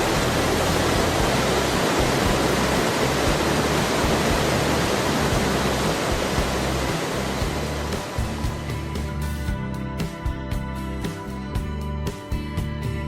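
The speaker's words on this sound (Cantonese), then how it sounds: "時不時會聽到瀑布同埋流水嘅聲音" A waterfall and flowing water in a canyon along a cliffside walkway in Enshi, Hubei, make a loud, continuous rushing roar that eases slightly toward the end.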